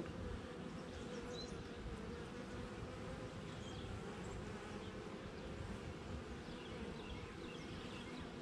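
Honeybees buzzing around an opened hive, a dense steady drone of many wings close to the listener with no talking.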